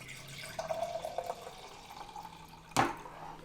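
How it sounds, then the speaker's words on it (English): Sangria pours steadily into a cup with a soft trickling splash, ending in a sharp clink near the end; no voices. "Pour our sangria in."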